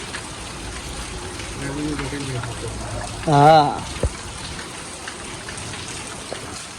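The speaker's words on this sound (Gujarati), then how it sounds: "વરસાદ ચાલુ હોય ને એટલે" Steady rain falls outdoors, a soft continuous hiss of drops on surfaces across the whole stretch, while a person briefly speaks a single word partway through.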